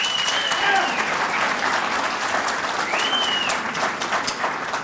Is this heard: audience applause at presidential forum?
yes